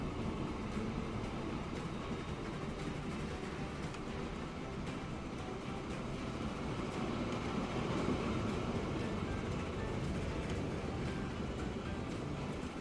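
A freight train hauling grain in the Transport Fever 2 video game rumbles along at a steady, low, even level, with a continuous roll of wheels and engine and no talk.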